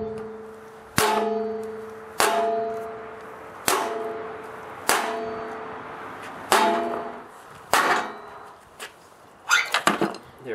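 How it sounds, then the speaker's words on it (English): A rubber dead blow hammer strikes a generator armature in eight or so sharp, ringing blows at a steady pace of roughly one every second and a half, ending in a quick flurry of lighter knocks, close and with no talk. "with a dead blow hammer made of rubber, you will not cause any damage to it"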